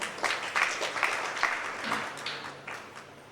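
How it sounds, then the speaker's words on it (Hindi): Parents at a school guardians' meeting applaud for a young man, a fairly soft, brief patter of scattered clapping from a seated audience with a few sharper claps standing out. "इनके लिए भैया के लिए एक बार तालियां बजाएं।"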